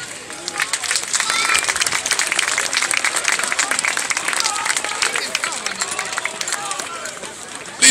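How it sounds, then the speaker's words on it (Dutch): Dense crowd applause mixed with cheering and shouting at an outdoor carnival key-handover ceremony in Gelaen, loud and continuous throughout with a noisy festive hubbub underneath. "Applaus!"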